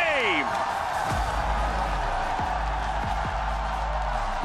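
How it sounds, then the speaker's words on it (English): A roaring arena crowd in Vancouver cheers loudly and continuously at an esports match, a dense wall of noise with low thuds and a brief whistle-like tone near the start. "Listen to that crowd. Listen to Vancouver right now."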